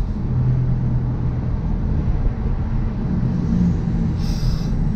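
Motorcycle engine heard from the rider's position, a steady loud droning hum that rises briefly as the rider downshifts, with no talk.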